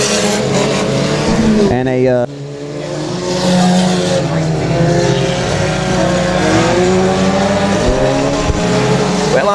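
Race cars at Texarkana 67 Speedway roar loudly and continuously around the track, engines rising and falling as they pass, while someone talks over the din.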